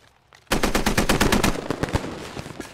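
Sustained automatic machine gun fire in the tactical shooter game Squad, a loud rapid burst of evenly spaced shots that starts abruptly and keeps hammering close by until the end.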